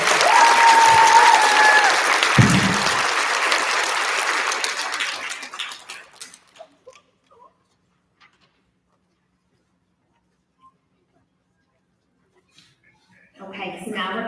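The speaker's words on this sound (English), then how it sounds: "Big round of applause for our 5th graders." Applause for fifth-grade students at an elementary school recognition ceremony, a loud burst of audience clapping that fades out over about six seconds into near silence, with faint talk starting again at the end.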